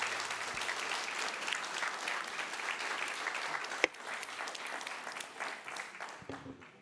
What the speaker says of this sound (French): On les applaudit tous très fort